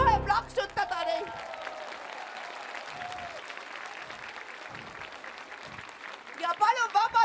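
An audience at a Tallinn kindergartens' song festival applauds a joint children's mixed choir, a dense wash of clapping that swells and fades, with voices talking over it at the start and end.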